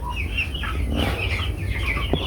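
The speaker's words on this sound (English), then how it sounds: "We first start with these big chicks." Four-month-old chickens on a poultry farm in Uganda, a busy flock clucking and chattering continuously at moderate distance, with a low hum of farm background beneath.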